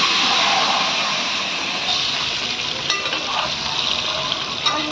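Eggs fry in oil with a little chili powder for a raw prawn and egg curry, giving a dense, continuous close-up sizzle with a few small sharp pops and clicks.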